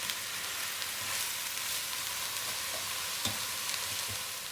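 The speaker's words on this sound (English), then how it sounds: "We're just gonna break it up and let the turkey get browned." Ground turkey browns in a hot pan with a dense, continuous sizzle and crackle, steady and close, with a few faint scrapes as the meat is broken up and stirred; nobody speaks.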